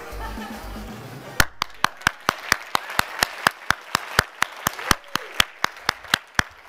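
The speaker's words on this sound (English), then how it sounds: "That's a clap for you guys." A conference audience claps in slow, evenly spaced single claps, about twenty sharp loud smacks in a steady rhythm after a brief stretch of murmured room sound.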